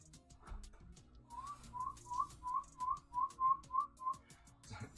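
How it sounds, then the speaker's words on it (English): A person whistles a quick run of about ten short, even, high notes near a clutch of button quail eggs, faint and close in a quiet room, with soft handling noises around. "I'm just whistling at the eggs to try and see if I can see any of them moving."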